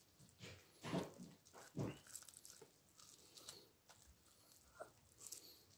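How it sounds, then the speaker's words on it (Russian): A dog gnaws on a cob of boiled corn, making quiet, close crunching and biting bursts at an irregular pace, with a couple of heavier chomps early on. "Скажи, ну и собака-божака тоже ест кукурузу. Давай, давай, грызи, грызи, грызи."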